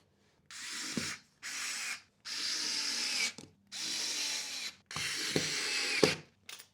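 A cordless drill drives screws into an IKEA Pax wardrobe panel in five or six steady whirring bursts of about a second each, separated by brief pauses, with faint knocks between runs.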